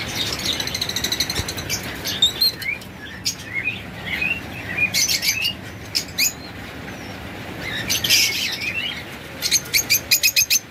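A sea green master pair of lovebirds in a bird seller's stock chirps and tweets in quick bursts of sharp, high calls, with other birds audible nearby and clusters of rapid chirps alternating with brief pauses.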